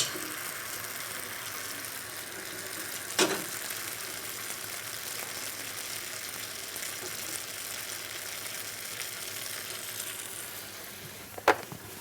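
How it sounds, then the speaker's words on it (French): Cocoa batter made with olive oil and water cooks like a crêpe in a pan, giving a steady, quiet sizzle throughout, broken by two brief sharp clicks near the start and the end. "nous allons le cuire comme une crêpe"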